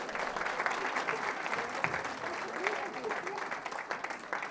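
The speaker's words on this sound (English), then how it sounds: "Give her a round of applause." Steady audience applause fills the room after a contestant answers a British postal history quiz question correctly, dense clapping sustained throughout at even loudness with faint voices mixed in.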